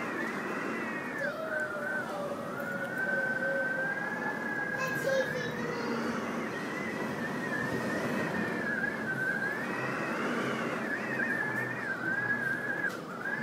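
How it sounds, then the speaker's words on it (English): Hurricane Sandy's strong wind howls continuously, a steady whistling roar with rising and falling pitch that never lets up, loud and close throughout. "Hear the wind."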